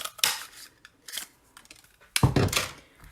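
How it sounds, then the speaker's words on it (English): A paper craft punch cuts leaf shapes from card stock, giving a few sharp crunchy snips and clacks, close and distinct, in separate bursts with quiet gaps between. "use my punch to cut out 2 leaves"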